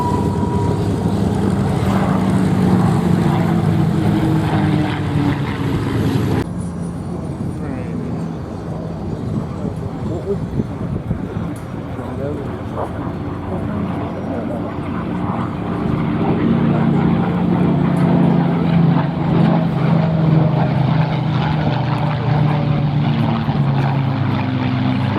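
P-51 Mustang propeller fighter flying at the Duxford Battle of Britain airshow, its engine drone swelling and fading as it passes, with a commentator talking over the public address throughout.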